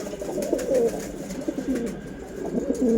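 Black fighter pigeons, kept as flying birds at a pigeon seller's in Wari, Dhaka, coo in soft, overlapping throaty calls, close by and steady for the whole stretch.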